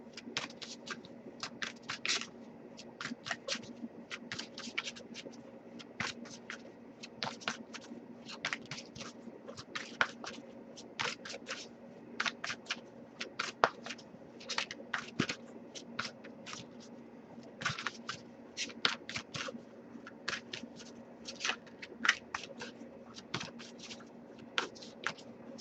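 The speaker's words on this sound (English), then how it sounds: "I'll shuffle a little bit longer before we move on" Cards are shuffled quietly and continuously, a rapid series of soft riffling snaps and slides, close and steady with no talking.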